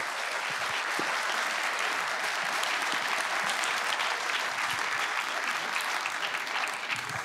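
A film festival audience at a Korean night in The Hague applauds steadily throughout, a dense wash of clapping from a sizable crowd without letting up.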